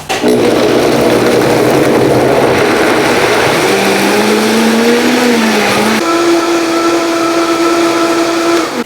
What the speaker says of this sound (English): I'm going to slowly increase the temperature, the speed of the blender from low to high